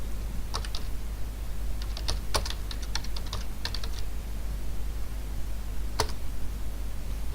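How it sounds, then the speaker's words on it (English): Short clusters of quiet keystrokes on a computer keyboard while a narration entry is typed into law practice accounting software, with irregular taps and pauses over a low steady background hum. "so you could type whatever you want there"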